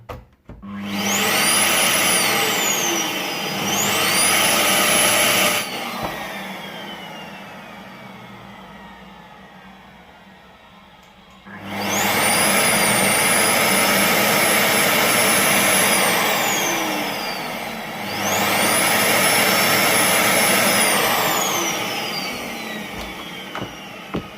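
A Philips PowerPro Active FC8632 vacuum cleaner with a burnt motor whines up loudly, runs, then cuts out and winds down, repeating this start-and-stop cycle three times over about twenty-four seconds, with no speech.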